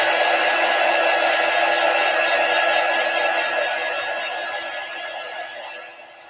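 A heat tool dries chalk paste on a Chalk Couture chalkboard sign, giving a steady, loud blowing whoosh with a faint whine that holds for about six seconds before easing off toward the end.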